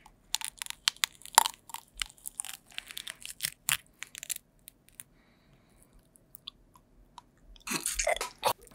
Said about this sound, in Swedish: Tycker ni inte om smaskningar